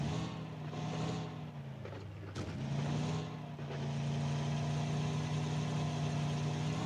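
A car engine in a shooting video game drones steadily as the vehicle is driven, with a brief dip and a small burst of revving before the even, mid-pitched hum resumes.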